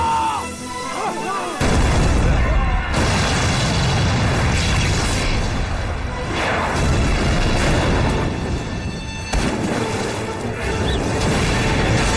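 A bomb blast in a Chinese wartime kung fu TV drama erupts as a loud, sustained booming roar after a brief quiet start, dipping once and surging again to fill the scene.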